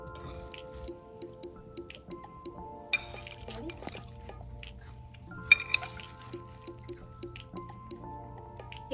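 Dill pickle chickpea salad tossed gently in an overfull bowl, giving soft, wet squishes and faint clinks of utensil against the bowl, quiet and close amid light background hum.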